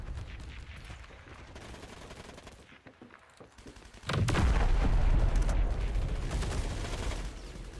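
Machine gun and artillery fire in the World War II shooter game Heroes & Generals, distant shots at first, then a sudden loud sustained burst of gunfire and explosions from about four seconds on.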